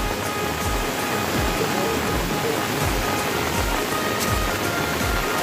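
Floodwater from a river in spate rushes past farm fields where people are fishing. It makes a steady, loud, broadband roar and wash of moving water that continues without a break throughout.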